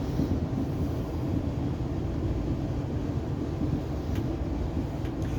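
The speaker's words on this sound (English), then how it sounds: "This is a diesel train." Steady low rumble of a diesel passenger train running, heard from on board, continuous and fairly even with no voices.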